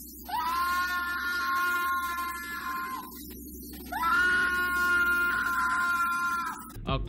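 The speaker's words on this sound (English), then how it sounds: "she's screaming very raw and terrified" A woman screams in two long, raw, piercing bursts separated by a short pause, over a low background rumble.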